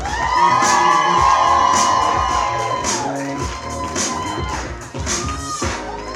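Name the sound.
wedding guests applauding and cheering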